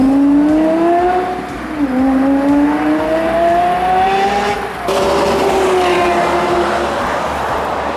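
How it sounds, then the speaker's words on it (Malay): Yamaha-built car engine with a tuned exhaust, revved hard toward 9000 rpm: a loud, close, high-pitched wail that climbs in repeated sweeps, dipping briefly between pulls before rising again, with no talking. "Jadi memang enjin ni bila kita perah kan, daripada 0 naik ke 9000 tu, memang macam bunyi F1."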